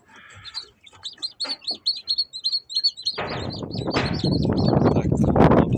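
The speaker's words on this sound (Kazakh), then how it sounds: "Так, бұл бізде инкубатордан шыққан балапандар." Incubator-hatched chicks chirp in a clear, rapid run of bright, evenly spaced peeps close up, and then a loud rush of wind or rustling comes in partway through and masks them.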